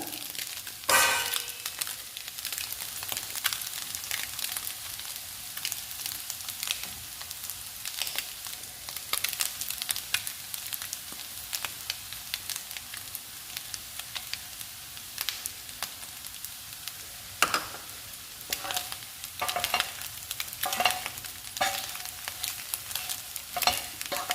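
Potatoes and eggs fry in a pan with garlic chilli powder, a steady crackling sizzle with occasional sharper pops and stirring scrapes, moderately loud and continuous.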